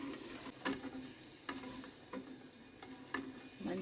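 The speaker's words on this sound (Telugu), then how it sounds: "మంచిగా డీప్ ఫ్రై అయినాయి." Food deep frying in hot oil at breakfast time gives a soft, continuous sizzle, with several light clicks and taps from a utensil stirring it, all quiet and close.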